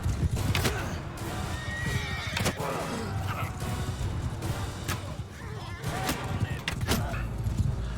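A horse in the Mount and Blade Bannerlord video game whinnies sharply after being shot, its cries mixed with hoof clatter and battle noise and a voice talking over it.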